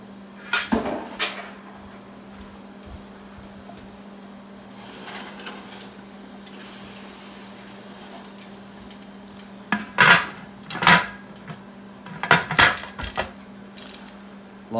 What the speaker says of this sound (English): We're going to take these, we're going to put them in the pressure canner.